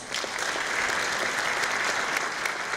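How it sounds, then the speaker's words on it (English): Steady applause from a seminar audience for a presenting doctor, a dense, continuous clatter of many hands clapping at moderate distance, holding evenly throughout without voices. "please join us and give us a big round of applause for Dr. Yoshino."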